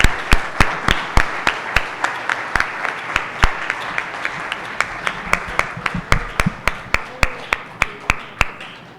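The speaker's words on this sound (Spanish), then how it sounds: "Aplausos para ustedes." An audience at a gallery talk applauds, with a few sharp, close individual claps standing out in an uneven rhythm over a softer bed of clapping from the rest of the room.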